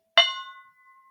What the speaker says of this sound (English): Ring that gong.